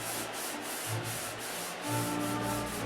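Steady, rhythmic scraping of sandpaper rubbed back and forth over a surface, close and continuous with regular strokes.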